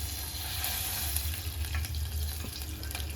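Butter and oil heating in a pan for deep-frying chicken, a steady, close, hissing sizzle with faint bubbling and a low hum beneath, no talking.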